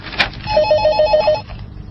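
A telephone rings in a short electronic warbling burst of about six quick pulses, fairly close and clear, with a brief click before it and no talk over it.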